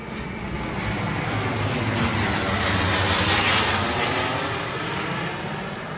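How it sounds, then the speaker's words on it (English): A private jet passes overhead, its broad, steady engine roar swelling to a peak midway and then slowly fading, with no talking. "Private jet."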